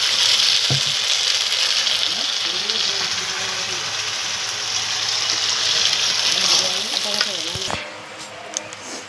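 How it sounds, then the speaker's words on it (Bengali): Sauce being stirred in a frying pan, a steady broad sizzle with faint scraping and stirring under it, close and fairly loud throughout, dropping quieter near the end. "এই যে সস, এবার এটাকে ভালোভাবে আবার একটু নাড়াচাড়া করতে হবে।"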